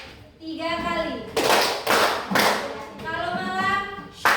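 Children clapping in unison during a classroom clapping game, several sharp group claps spaced between a woman's spoken prompts, near and loud in a small room.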